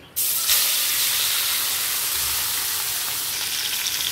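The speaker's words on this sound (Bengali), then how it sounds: "এবারে এই চিকেনটাকেও আমরা ভালো করে ভেজে নেব।" Chicken pieces seasoned with salt, turmeric and chili powder hit a hot oiled pan, setting off an abrupt, loud frying sizzle that continues as a steady close hiss throughout.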